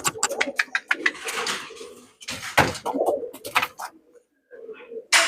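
Pigeons cooing at a bird-singing contest in Indonesia: close, repeated soft coos broken by loud bursts of rustling and knocking noise, with brief silent gaps between them.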